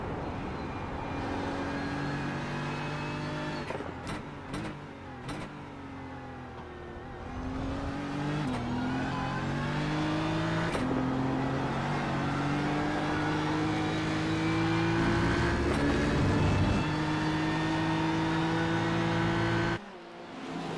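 Onboard sound from an Australian Sports Sedans race car lapping Phillip Island, a loud engine screaming up through the revs with repeated gear shifts and brief lifts, sustained and close throughout.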